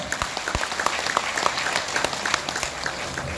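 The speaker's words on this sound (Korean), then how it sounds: "여러분 박수로 환영해 주시기 바랍니다" Applause from party members at a party training event in Andong, South Korea, welcoming the party leader: steady clapping from a fairly large crowd, moderately loud and sustained throughout with no talk over it.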